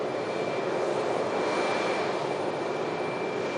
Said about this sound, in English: There's the Air France 320 just taxiing over.